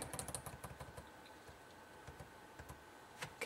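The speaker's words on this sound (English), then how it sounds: "Use my down arrow keys." Computer keyboard arrow keys tapped during drawing software work, a run of quick, light clicks, irregular and close, some in brief clusters, quiet and without talking.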